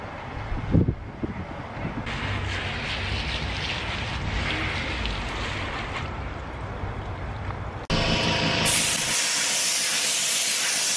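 An aerosol rattle can sprays adhesive promoter onto a raw, unpainted plastic car bumper, a steady close hiss lasting several seconds with brief pauses and a harsher, brighter burst near the end.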